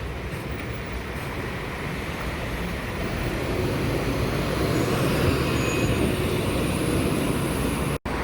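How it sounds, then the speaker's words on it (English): A rail replacement bus drives past on a suburban Melbourne road around Camberwell, its steady engine and tyre rumble holding close and loud throughout before cutting off abruptly at the end. "this train replacement bus is going, but right behind it is another train replacement bus."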